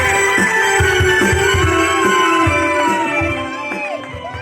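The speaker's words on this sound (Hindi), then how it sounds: "जोरदार तालियों के साथ हनुमान जी का स्वागत करेंगे।" A crowd at a Ramleela gathering cheers and claps to welcome a performer dressed as Hanuman, a loud, dense roar of voices with rhythmic low thumps that eases slightly toward the end.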